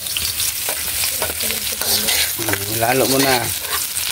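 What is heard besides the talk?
onions sautéing in a pan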